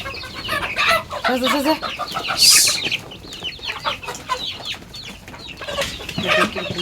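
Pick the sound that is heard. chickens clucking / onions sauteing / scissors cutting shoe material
chickens clucking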